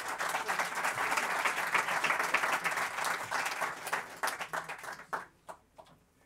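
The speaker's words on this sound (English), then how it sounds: "So please give a warm round of applause for Astera." An audience claps steadily in a dense, warm round of applause that thins out toward the end into a few scattered claps.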